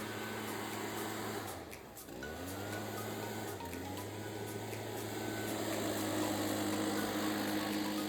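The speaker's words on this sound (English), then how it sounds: "Got both blowers up here." Two leaf blowers run on a gutter and leaf-clearing job, making a steady, fairly distant engine drone whose pitch dips briefly before settling back into a constant hum.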